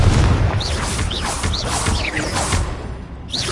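Booming spell blasts from the Confringo fire curse in the Hogwarts Legacy video game, a dense run of loud explosive bursts layered over whooshing magical effects, steady and close with no pause.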